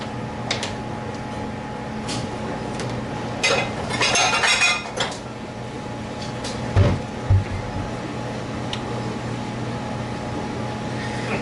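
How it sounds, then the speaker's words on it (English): Metal pot lid clinks against a full pan of Puerto Rican cube steak on a home kitchen stove, a few sharp knocks near the middle of the clip over a steady cooking and vent hum. "I'm going to get the lid."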